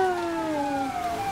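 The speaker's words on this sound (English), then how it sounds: "How do I turn off my sirens?" Police siren from the Need for Speed Hot Pursuit racing game, a steady wailing tone gliding slowly downward, loud and continuous for the whole second with no talk over it.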